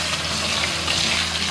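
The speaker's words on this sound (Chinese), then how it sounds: "煎了3分半钟，像这样子，表面脆皮了哈就可以了" Oyster omelette pan-frying in oil over medium-low heat, a steady close crackling sizzle with dense broadband spitting and no talk.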